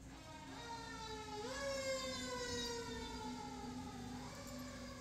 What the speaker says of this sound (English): Oh, here's some sirens.